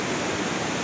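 Swollen Apayao River rushes in a steady, loud, close roar of churning floodwater, a continuous broadband wash with no pauses and no voices.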